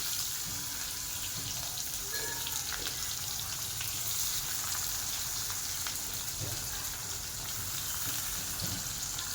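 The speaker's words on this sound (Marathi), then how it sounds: "मी आहे त्याच तेलामध्ये कांदा फ्राय करून घेणार आहे" Chopped onion frying in oil left over from frying potatoes, a steady, dense sizzle that crackles evenly throughout with no talking.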